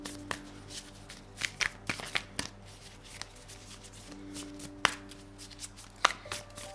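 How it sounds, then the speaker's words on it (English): Tarot cards being shuffled by hand, a quick series of sharp riffling snaps and flutters at close range with a steady low hum underneath and no talk. "These are tarot cards"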